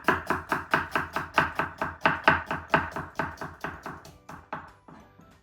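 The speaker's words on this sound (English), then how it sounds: "I'm just going to quickly whiz through these onions now" A not-very-sharp kitchen knife chops through a kilo of onions on a board in a fast, even rhythm of about twenty close, crisp strikes that slow and thin out at the end.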